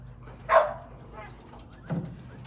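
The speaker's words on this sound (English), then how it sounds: "A dog right on the other side of that fence." On a quail farm, a dog on the far side of a fence gives a single bark and then a softer second one. Both sound moderately distant against quiet background noise.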